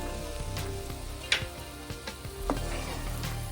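Egg curry masala mix frying in a pan with a steady sizzle, broken by a few sharp scrapes and stirs of a spoon against the pan.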